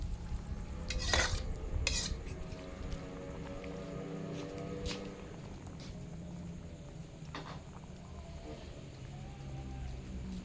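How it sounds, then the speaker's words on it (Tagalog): A spoon stirs native chicken tinola with malunggay pods in a pot cooked outdoors at night, with scraping clinks and metallic knocks over a soft simmer and background noise, and a person speaking in Filipino. "Haluin lang natin para pumaloob yung bunga ng malunggay."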